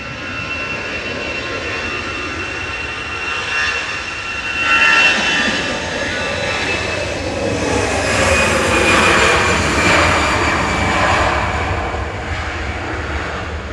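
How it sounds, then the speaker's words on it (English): An EasyJet Airbus A320 Classic jet airliner takes off at Manchester Airport, a loud sustained roar that swells and rumbles for the whole stretch, heard from nearby. "That's EasyJet flight 2169 over to Amsterdam, operated by GEZUF. That's a 13-year-old A320 Classic."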